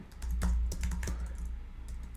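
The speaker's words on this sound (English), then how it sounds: "That's all I'm going to type in right in here." Computer keyboard typing, a quick run of key clicks over a low hum, fairly close and moderately loud, with no talking.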